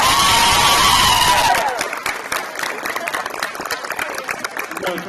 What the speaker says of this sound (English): Let's give Allie a round of applause.